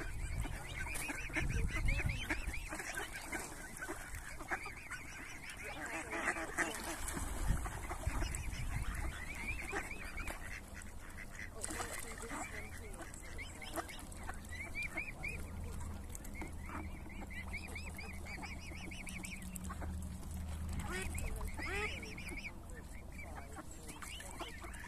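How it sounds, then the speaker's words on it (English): Geese and ducks honk and quack repeatedly in a busy flock, the calls overlapping at a moderate distance over faint background noise. "I went to see the ducks yesterday."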